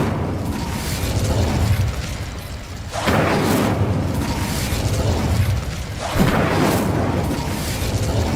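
An Incendio fire spell cast in Hogwarts Legacy, dense roaring whooshes of flame that surge in at least two waves, loud and sustained with a crackling, rumbling body and no talk over it.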